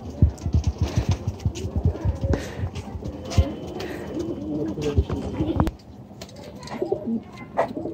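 Pigeons in a high-flyer Giribaz loft, with repeated throaty coos and wing flutters near and far, while people talk over them throughout.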